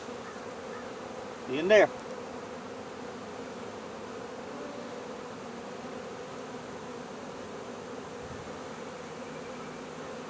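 A honeybee swarm drones in a steady, even buzz throughout, with a brief louder burst near the start as a bee passes close, and a short spoken remark.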